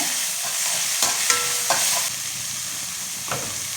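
Onion sautéing in a pan for semiya upma, a steady sizzle with a few soft scrapes and stirring knocks from a spatula, close and moderately loud throughout.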